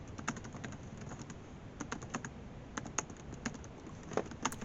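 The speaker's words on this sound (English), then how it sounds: "Then after I was done typing for the morning on my work" Quick, irregular keystrokes on a computer keyboard during morning work, close and fairly quiet, clicking steadily in short runs with no voices.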